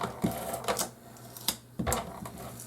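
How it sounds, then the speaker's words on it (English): An advanced tape glider applies adhesive to a closed paper flip-top box in a few quick, faint clicking strokes, each a short sharp burst separated by brief pauses. "now to go back over that, I'm going to take my advanced tape glider again"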